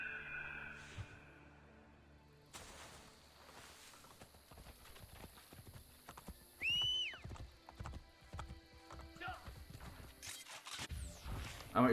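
Horse hooves clip-clop in the game Assassin's Creed Brotherhood, a quick irregular run of hoof strikes over game ambience, with a brief neigh and other effects mixed in.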